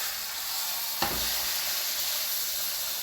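Pork shoulder blade steak sears in a pan beside cooking onions, giving off a steady close hiss and crackle with one short click partway through.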